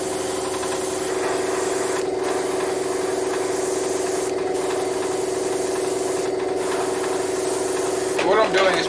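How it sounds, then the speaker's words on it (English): A spray can or airbrush hisses continuously while weathering a plastic model blaster around its vents and heat-release areas, with brief pauses between bursts and a steady mechanical hum underneath. "What I'm doing is spraying around anywhere that looks like a vent or a heat release."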